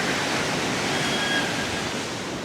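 Silty river water from the Indus surging hard through a row of five canal gates at Keenjhar Lake, a loud, steady, dense roar that fills the whole clip.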